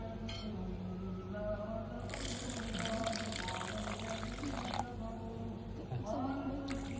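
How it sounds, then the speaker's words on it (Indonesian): Warm water is poured into a container for an alcohol and lactic acid fermentation mixture, a broad splashing rush in two bursts over a steady low background, fairly close. "Tuangkan air hangat secukupnya."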